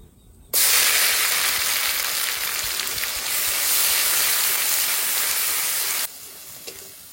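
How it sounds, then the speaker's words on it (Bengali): Onion paste with bay leaf and whole cumin hitting hot oil, a loud, sudden sizzle that holds steady for several seconds before cutting off abruptly. "পেঁয়াজটা ভালো করে ভেজে নিয়েছি।"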